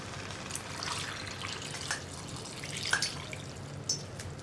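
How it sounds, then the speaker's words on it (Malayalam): Hot water goes into a green mango and tomato curry, heard as soft liquid splashes and drips over a low, even background. "ഇനി നമ്മളിതിലേക്ക് ചൂടുവെള്ളമാണ് ചേർക്കുന്നത്"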